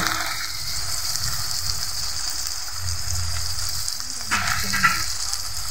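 Carp pieces frying with spices, chopped tomato and peas in a pan give a steady, loud sizzle throughout, with a brief stirring scrape near the end.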